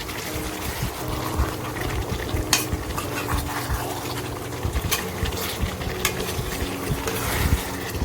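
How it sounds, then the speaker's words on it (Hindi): Ginger garlic paste frying in a karahi for a chicken karahi, a steady low sizzle with occasional clinks and scrapes of a stirring utensil against the pan. "10 मिनट हो चुके हैं इसको फ्राई करते हुए।"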